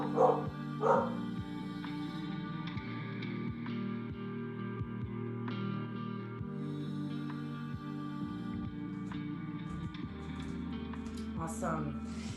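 Dogs bark and yip in a room during a yoga session, with a few short barks near the start and end mixed under a steady background hum.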